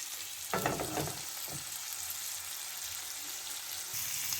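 Chicken malai boti fries on a very low flame with a soft, continuous sizzle. A brief burst of clattering stirring and turning near the start fades back to the gentle background frying.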